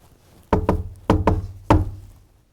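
Five firm, close knocks come in three groups: a quick pair, another quick pair, then a single knock. Each is loud and sharp with a short resonant tail, and the groups are separated by brief pauses.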